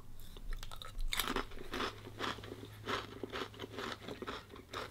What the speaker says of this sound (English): To me, the biscuit has still got a crunch.